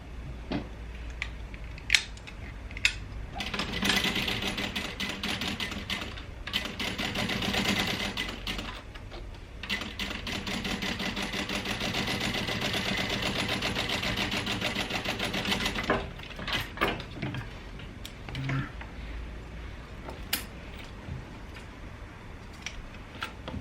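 A sewing machine top stitching a fabric crossbody bag panel, running in a long steady whir for about twelve seconds between short bursts and pauses, with small clicks and handling noises around it and no talking.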